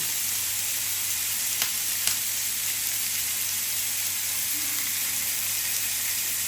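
Shashlik skewers brushed with mustard oil sizzle on a grill in a steady, close, unbroken hiss, with a couple of faint clicks near the middle and no talking.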